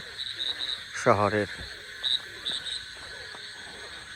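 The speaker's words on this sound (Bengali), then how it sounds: "এই যে কত সুন্দর ব্যাঙে ডাকতেছে" A few short frog croaks sound out in the open in a village in Bangladesh, with one louder rasping call near the start, over a steady insect hum and a brief spoken word.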